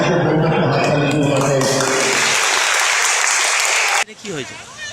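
Applause at a karate academy event in Bhatar, following speech from people: a dense, loud, steady burst of clapping that fills the middle of the clip, then cuts off abruptly into quieter talk.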